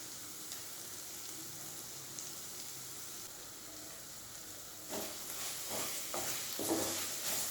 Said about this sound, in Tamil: நம்ம ஏற்கனவே வதக்கி இருந்தால் கூட திருப்பி ஒரு தடவை நல்லா வதக்கிக்கலாம்.